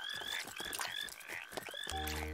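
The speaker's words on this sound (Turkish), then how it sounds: "şu çirkin kurbağaya bak" A cartoon frog in Adventure Time croaks in repeated throaty pulses, close and clear, before a brief musical sting cuts in at the end.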